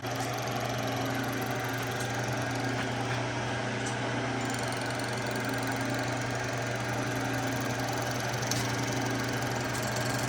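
A Bridgeport milling machine cuts down a key, giving a steady, continuous motor hum and cutting drone that stays even and unbroken throughout.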